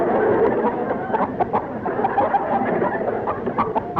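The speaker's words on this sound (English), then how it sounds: "it sounds like a baby chicken" Baby chicken cheeping played from a record in an old radio comedy, a dense run of quick high chirps and clucks repeating throughout, loud and busy with no talk.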